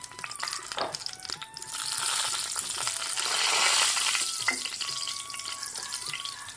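Green chillies frying in oil in a pan for fish curry, a close sizzling hiss that swells and fades, with scattered clinks and scrapes of a utensil against the pan.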